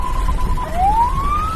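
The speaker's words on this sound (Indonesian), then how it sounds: "Kalau ini berarti ambulan sedang menjemput pasien." An ambulance siren using the pattern for going to pick up a patient: a loud, steady electronic tone that dips and then glides slowly upward, heard up close with no talk.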